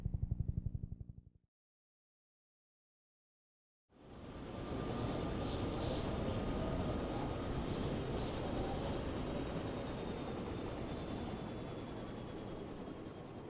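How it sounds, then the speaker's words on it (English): After a brief low sound fades into a few seconds of silence, a helicopter in Yakuza 1 rises into a loud, steady rotor and engine roar that holds close and continuous, then eases slightly toward the end. "A helicopter."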